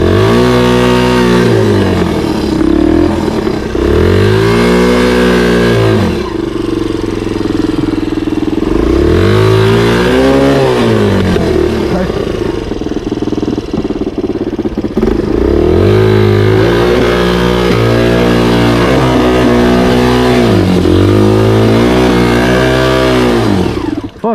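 An enduro motorcycle with its rear wheel stuck revs hard again and again, each long rising and falling vroom loud and close, with short pauses between bursts.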